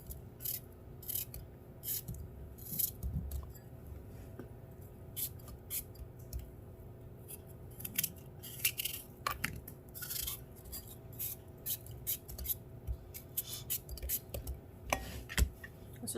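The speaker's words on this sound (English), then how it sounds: "You just cut it up in little squares." Apples being cut into small squares on a board for a Thanksgiving butternut squash dish, heard as a steady series of soft, quick knife clicks and taps close by, without talking.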